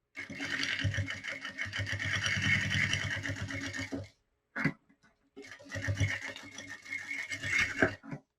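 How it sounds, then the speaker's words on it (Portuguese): A domestic sewing machine runs steadily, stitching a seam along a marked line with backstitching at the start and end, and stops briefly partway through before starting up again, close and fairly quiet. "agora eu vou fazer a costura em cima desse risco"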